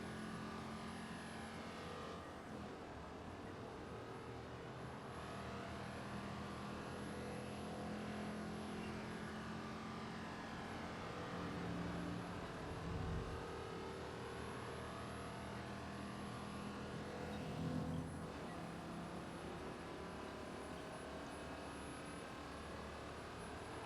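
Car engine hum from Watch Dogs 2, a steady mid-level drone of driving with a couple of brief louder swells, no talking over it.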